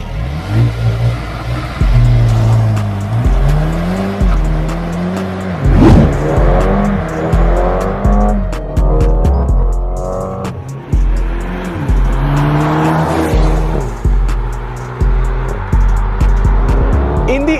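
Mercedes GLS 35 with an M139 turbo four-cylinder making a hard launch in sport settings: a loud, close engine roar climbing in pitch through repeated upshifts, with brief dips between gears.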